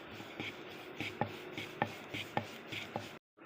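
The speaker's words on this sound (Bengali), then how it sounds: "লুচিগুলো বেলে নেব।" Luchi dough being rolled out with a rolling pin on a board, a regular series of soft knocks and rubbing strokes about every half second, close and quiet, ending abruptly.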